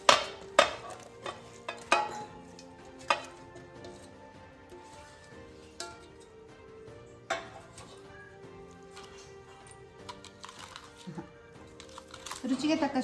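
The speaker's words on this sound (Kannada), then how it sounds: "ಹಾಗೆ ಈರುಳ್ಳಿ, ಟೊಮೆಟೊ, ಸೌತೆಕಾಯಿ ಹಾಗೂ ಕ್ಯಾರೆಟ್ ಅಂತ ತಗೊಂಡೆ. ಇವಿಷ್ಟನ್ನು ಹಾಕಿ ಮಿಕ್ಸ್ ಮಾಡ್ಕೊಳ್ಳ." A spoon mixes chopped onion, tomato, cucumber and carrot in a bowl, producing scattered sharp clinks and soft stirring scrapes, loud at first and then lighter, under a voice talking.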